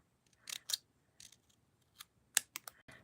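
Scissors make soft, sharp snips trimming cardstock for a handmade Stampin' Up! card, with a few irregular close cuts and light paper rustles in an otherwise quiet room.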